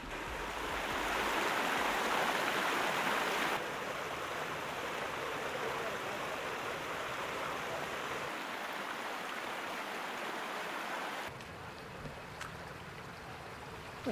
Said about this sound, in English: There's some good current out here. This is some hefty current.